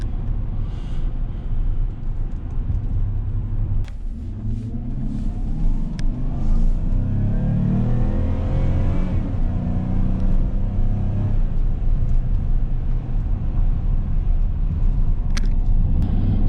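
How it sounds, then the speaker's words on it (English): A Chevrolet Silverado pickup with a 5.3L engine and an aftermarket tuner accelerates from inside the cab, its engine rumbling and climbing through gear shifts in a loud, continuous drone. "you can see that this truck now shifts a lot better"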